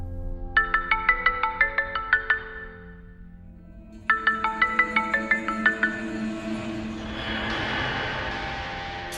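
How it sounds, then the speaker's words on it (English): A bright electronic phone ringtone plays a quick repeating melody, pauses, then starts again before fading into background noise. "This time I use the ringtone to trigger the marksman mode."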